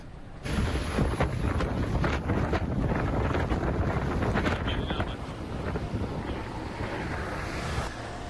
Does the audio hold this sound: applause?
no